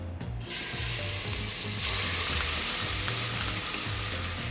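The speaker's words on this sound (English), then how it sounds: "now we have the oil that heated up in the pot and we're gonna add the garlic" Garlic drops into hot oil in a pot and bursts into a loud, steady sizzle with stirring scrapes underneath, close by and continuous.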